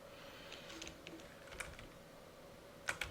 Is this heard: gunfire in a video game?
no